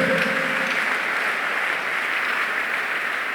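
A church congregation applauds, sustained dense clapping filling the room at a steady, loud level throughout.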